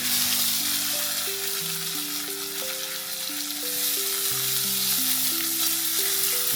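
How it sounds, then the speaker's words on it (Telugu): Onions, green chillies and mint frying in a pan, with a continuous bright sizzle under a melody of background music, steady and fairly close with no talking. "వేసుకొని కొద్దిగా దోరగా ఫ్రై చేసుకోవాలి"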